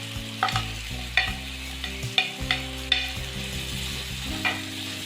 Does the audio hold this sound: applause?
no